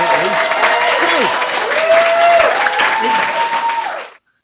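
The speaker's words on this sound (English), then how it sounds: "Actually, this should be a cheer after that one" Crowd cheering and clapping played as a podcast sound effect, a steady dense wash at even loudness with a few whooping voices rising through it, cutting off abruptly at the end.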